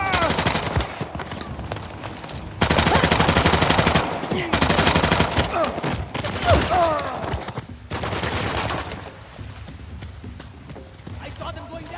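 Gunfire in the Uncharted: The Lost Legacy video game, rapid automatic bursts mixed with hooves, clattering and chaotic battle effects, with shouting voices over much of it.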